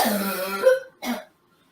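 Two close coughs from a person, the first longer and rougher, followed after a short gap by a quick second one, then silence.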